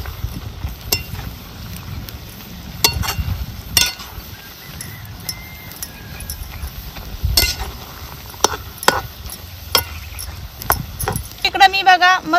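Drumstick (moringa) leaf vegetable being stirred with moong dal in a pan, heard as irregular scraping and clacking of a utensil against the pan with a soft sizzle underneath. The strokes are close and moderately loud, with a quicker flurry near the end.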